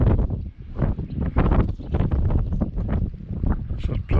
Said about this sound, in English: Still get this squally wind, which doesn't help.